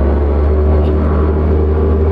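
A truck passing on the road gives a steady, close, low engine rumble with a constant drone throughout and no voices.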